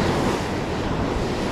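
Ocean surf rolls and washes in a steady, loud roar while fishing from the shore in October, with gusty wind buffeting throughout and no talk.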